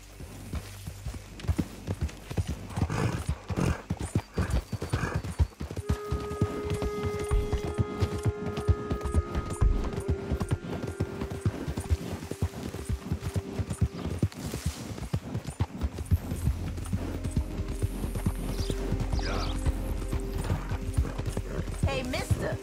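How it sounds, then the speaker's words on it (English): Hooves clip-clop steadily throughout, with a horse neighing partway through, alongside game music and a voice speaking, in Red Dead Redemption 2. "that's one nice looking horse you got there"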